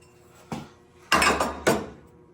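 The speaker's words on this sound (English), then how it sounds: "So I got to hammer this back a little bit." Three sharp metallic hammer blows on a metal chassis part during fabrication, one lighter strike followed by two louder ringing impacts about half a second apart, close up with no talking.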